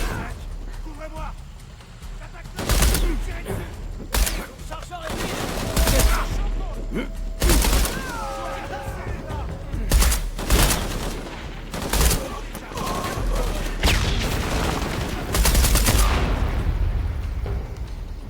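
Repeated bursts of gunfire in a Shadow of the Tomb Raider firefight, loud volleys and single shots spread across the scene with gaps between, mixed with game effects and voices talking in French.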